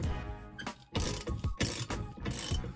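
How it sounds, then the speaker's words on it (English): Ratchet wrench backing old seat bolts out of a floor during an RV seat swap to Ford Transit seats: four loud, close bursts of rapid metallic clicking separated by short pauses, with no talk. "So the first thing I have to do is take these old bolts off."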